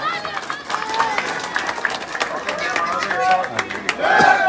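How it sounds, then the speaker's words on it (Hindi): Village crowd claps and chatters at a welcome ceremony for local leaders and a former sarpanch in Papurna, with steady clapping under a babble of voices and someone talking over it. "तालियां बजाओ, तालियां।"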